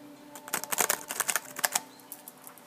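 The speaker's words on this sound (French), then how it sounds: "je complète avec 3 cartes de l'oracle de l'amour, du grand oracle de l'amour. Je vais mélanger" Oracle love cards are shuffled close by, making a steady run of quick papery flicks and riffles that rise and fall in brief bursts, with no voices.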